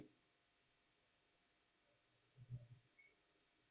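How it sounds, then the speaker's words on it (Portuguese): Steady high-pitched cricket chirping runs unbroken through the quiet indoor room, a continuous shrill trill with a faint low thump partway through and no talk. "Eu ouvi o grilo"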